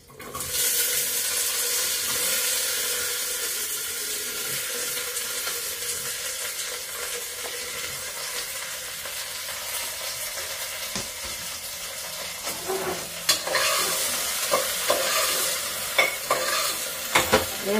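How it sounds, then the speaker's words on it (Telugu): Okra and green chillies sizzle loudly in hot tempering oil, a steady dense frying hiss with scattered crackles and pops that sharpen near the end, no voices over it. "ఈ తాలింపులో బెండకాయలు పచ్చిమిరకాయలు వేసేస్తున్నాను ముందు."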